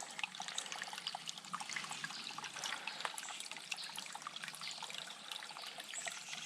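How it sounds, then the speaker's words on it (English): Water trickles steadily down into a sinkhole at a state park preserve, a continuous faint splashing dribble with no voices. "So I can see this water trickling down from up there at the top of this sink."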